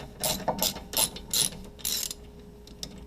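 Ratchet clicks in quick bursts as Torx bolts on the front brake caliper of a 2004 Volkswagen Jetta TDI are loosened, about five strokes close by, then a quieter pause with a faint click.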